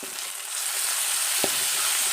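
Chojina (drumstick) flowers frying with cumin, turmeric and salt in a pan, a steady close sizzle with one brief knock of a utensil partway through.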